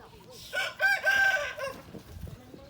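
A rooster crows loudly nearby on a garden farm, followed by softer hen clucks and scattered rustling as the crow fades.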